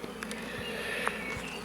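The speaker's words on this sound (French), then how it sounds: "on voit qu'il y a des abeilles qui travaillent" Honey bees busy in a small nucleus hive give a dense, continuous buzzing hum, close and steady, with a few individual bees droning past, and no talking.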